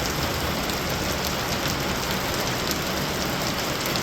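Rain falls outside a home garage during car work as a constant, even hiss of drops on surfaces, moderately loud and unchanging, with no voices.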